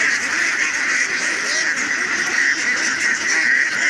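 Ducks being caught and sorted quack continuously in a dense, noisy flock, a loud, steady chorus of overlapping calls close by with no clear pauses.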